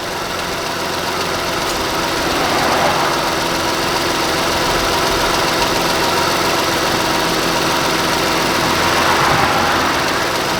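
A car engine idles steadily while warming up to operating temperature after a repair, a loud, continuous rumble with faint knocking and vibration, no voices.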